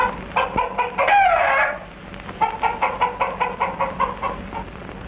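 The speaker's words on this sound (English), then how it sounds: "The favorite Dayak sport is cockfighting. Here the boys are only letting them spar." Roosters spar in practice for a Dayak cockfight in Borneo, with loud close clucks and a harsh squawking burst, then a quick run of rhythmic clucking calls.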